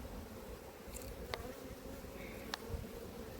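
Honey bees buzzing around an opened hive in an apiary, a soft continuous hum with a couple of individual bees zipping past close by, no talking.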